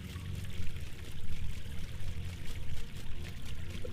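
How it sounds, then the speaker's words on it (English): The flowing fountain at the Jedi Temple on Coruscant in Knights of the Old Republic II splashes and pours in a continuous, gently surging stream, soft and steady with no voices. "Peaceful sound of the water helps clear your thoughts and calm the mind."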